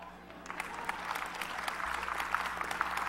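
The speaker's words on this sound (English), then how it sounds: "Clap." Applause from a church audience during a sermon, a steady patter of many hands clapping at moderate distance, building slightly and sustained throughout without speech over it.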